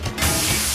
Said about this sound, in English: The metal tube erupted, spraying out a hissing stream of concentrated vapor.